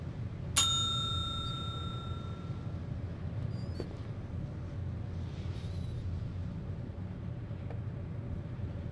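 A doorbell in the video game Geheimakte 2 rings once with a clear, bright ding that rings out for over a second, then fades over a low steady ambient hum, with no speech.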